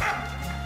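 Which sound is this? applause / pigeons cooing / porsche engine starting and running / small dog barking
small dog barking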